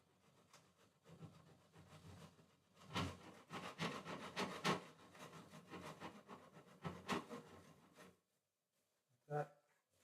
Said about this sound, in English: The old file rasp, but it's going to get me quickly finished.